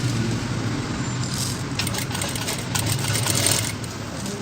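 A sewing machine attaches lace to the neckline and keyhole of a katori blouse, humming steadily and close throughout.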